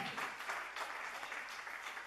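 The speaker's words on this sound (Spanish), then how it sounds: "Aplauda el nombre del Señor entonces" Congregation applauding during a church service, with steady, dense clapping throughout a short, faint stretch.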